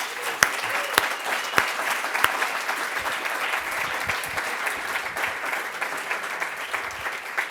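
Steady applause from an audience for student presenters and groups at a class session, a dense even patter of many hands clapping throughout, moderately distant with no talk over it.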